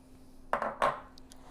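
A utensil clinks twice against a bowl while salt and egg whites are mixed together for salt-baked fish, two quick, close, fairly quiet knocks in an otherwise still kitchen.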